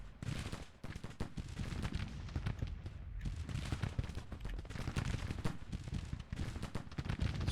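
Dense gunfire from a Civil War battle in the strategy game Grand Tactician rattles on continuously, a steady rolling fusillade of musket volleys with deep booming underneath, loud and unbroken throughout.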